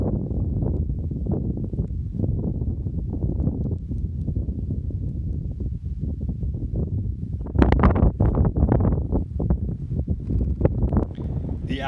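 Strong, steady mountain wind buffets the microphone on a high alpine hiking trail near Snowmass Lake, a continuous low roar that gusts harder with sharper rustling bursts toward the end.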